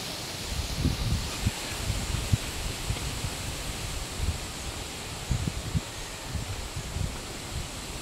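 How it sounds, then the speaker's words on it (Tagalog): Steady strong wind rushes through leaves with a constant rustling hiss, low gusty rumbles pulsing underneath. "Grabe ang hangin"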